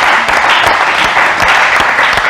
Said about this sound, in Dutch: dat is ook een applaus waard, hè?